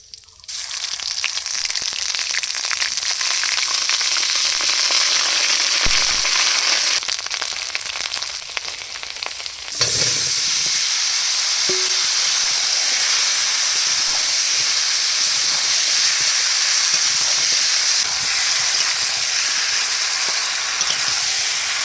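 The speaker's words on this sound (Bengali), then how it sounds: "এবার কুমড়ো আর আলু কষিয়ে নেব গোটা জিরা তেজপাতা আর আদা ফোড়ন দিয়ে দেবো" Pumpkin and potato fry loudly in a tempering of whole cumin, bay leaf and ginger, a dense continuous sizzle and hiss that jumps louder about halfway through and stays strong, close up and alone.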